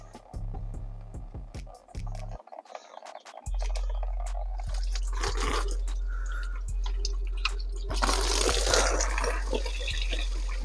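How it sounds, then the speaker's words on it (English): Coolant pours and drips out of the water pump on a BMW E92 335i into a catch container, a steady wet trickle with scattered drips and splashes that swells louder near the end. "That's quite a lot of coolant coming out."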